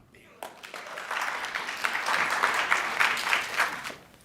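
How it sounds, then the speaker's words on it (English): An audience at Albany State rises into a standing ovation after a speech by Dr. Arikana, the clapping swelling in after a brief quiet start, holding thick and even, then tapering off near the end. "we owe her a standing round of applause, please"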